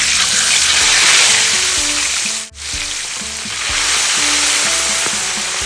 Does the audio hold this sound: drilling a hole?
no